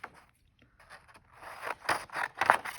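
Scissors snip through paper while a Christmas tree card with a snowman is made, several soft scraping cuts building in loudness over a couple of seconds, close and alone.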